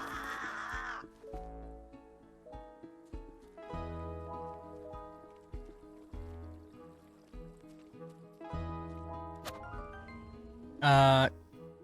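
Crow-like birds in the video game Beastro give a series of short, separated caws over an ambient game music bed with rain-like patter, ending in a sharp, louder burst.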